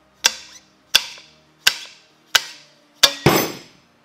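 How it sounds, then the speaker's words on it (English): A slide hammer knocks on a dirt bike fork to break the tubes loose: five sharp metallic clanks spaced evenly about every 0.7 seconds, then a final harder, ringing strike, loud and close, with no talk. "You may have to slide hammer a little bit to get it to break loose."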